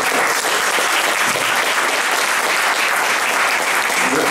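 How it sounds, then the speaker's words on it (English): An audience at a virtual currency legislation roundtable meetup applauds, a dense, steady burst of clapping from a crowd that holds at full strength throughout. "would you please give them a hand and thank them as well?"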